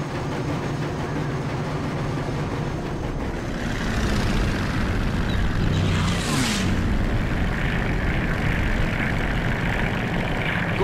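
The propeller engine of a Devastator aircraft in the video game Crimson Skies drones steadily and loudly throughout, with a whooshing pass midway and no talking.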